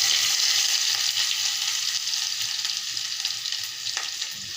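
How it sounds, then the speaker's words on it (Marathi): Curry leaves sputter and sizzle in hot oil for kadhi, a steady close-up frying hiss with tiny crackles and pops running throughout, loud at first and easing slightly. "त्यानंतर आपल्याला ॲड करायचे कढीपत्ता। एकदम तुडतुडीत झाला की"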